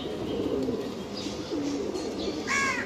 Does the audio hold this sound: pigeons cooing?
yes